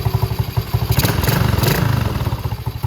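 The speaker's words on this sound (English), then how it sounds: "as you turn it clockwise, the ATV RPM will start to go up" Venom Madix 125cc ATV engine idling at raised RPM, close up: a fast, even putter from the small single-cylinder motor that swells slightly mid-way, then settles.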